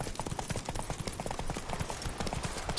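Roach the horse's hooves clop in quick, evenly spaced beats in Witcher 3, a short close run of hoofbeats over light game ambience.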